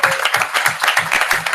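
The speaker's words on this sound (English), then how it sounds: "let's give her a huge round of applause" Close, loud clapping at a youth climate conference session, with quick, distinct hand claps in an uneven rhythm over about a second and a half, sounding like a smaller group than a full hall.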